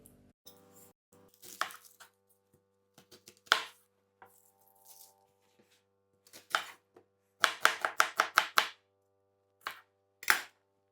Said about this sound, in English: So let's cut the onion.